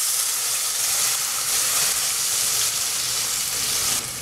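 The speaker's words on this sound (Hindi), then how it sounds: "हम ज़ीरे को थोड़ा तेल में कड़कने देंगे" A steady, loud sizzling crackle of cumin seeds frying in hot oil, continuous for several seconds with no voices.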